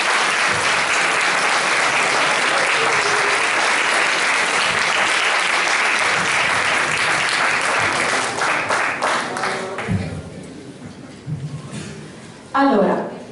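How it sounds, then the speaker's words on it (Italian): Concert audience bursting into sustained, dense applause that stays loud for about ten seconds, then thins out into scattered claps and a few voices before a final brief burst. "Un applauso,"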